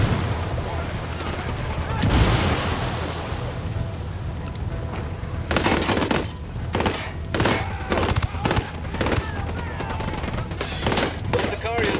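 Gunfire against the cartel in the video game Ghost Recon Wildlands, starting with a rumbling, windy stretch and a single heavy blast, then breaking into repeated loud bursts of rapid shots with irregular gaps.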